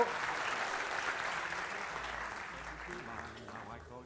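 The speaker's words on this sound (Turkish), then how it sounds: "Beyefendiye kocaman bir alkış alalım" Audience applause fills a live comedy show stage as a volunteer is welcomed up, a steady wash of clapping that fades slightly toward the end, with voices mixed in.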